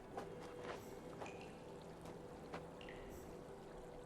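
Water pours in Myst IV: Revelations, a faint, quiet trickling stream with scattered small splashes and drips running throughout.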